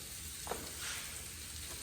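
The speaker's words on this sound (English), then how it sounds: "All right, last thing on the grill, a bunch of mushrooms," Mushrooms cooking on a grill, with butter and onions, give a steady close sizzle and hiss broken by a couple of faint pops, and no one speaks.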